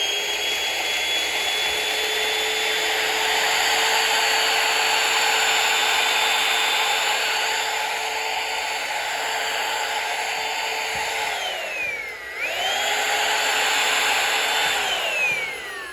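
A Shark VacMop Pro cordless vacuum mop runs close by with a loud, steady high-pitched motor whine. The pitch sags and briefly cuts out, then spins back up and holds steady again.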